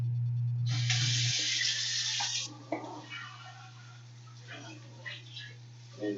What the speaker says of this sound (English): clean out the sink a bit with the InSinkErator on